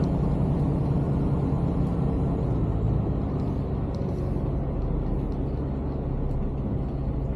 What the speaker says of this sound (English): Trucks down this way.